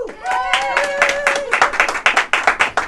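Studio audience at a local TV show cheering and clapping, sustained claps with whoops and a long rising voice over them, building into sharper individual claps toward the end.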